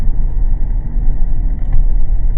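A car with something wrong with it runs with a steady, loud low rumble and engine drone, heard up close and alone without any talking.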